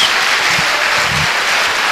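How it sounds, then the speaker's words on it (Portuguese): Church congregation breaks into loud, continuous clapping during a service, a dense wash of many hands close by with no clear pauses. "Se você concorda com isso, dê uma salva de palmas."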